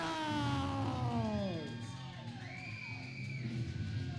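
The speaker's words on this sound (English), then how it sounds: "And listen to this crowd erupt." Wrestling event crowd yelling and whooping at an independent show, a dense wash of shouts and cheers with rising and falling voices, a few individual yells standing out above the noisy hall.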